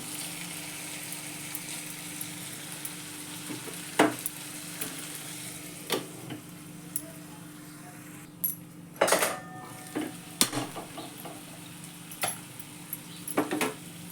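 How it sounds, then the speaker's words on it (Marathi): Capsicum (bell pepper) pieces sautéing and steaming in hot oil in a pan, a steady soft sizzle with occasional sharp clinks and scrapes of a spoon stirring against the vessel. "मस्त त्या तेलामध्ये ही भाजी छान परतून घेतली आपण आणि ती वाफवते त्या तेलातच अजून एक दोन मिनटं ठेवू"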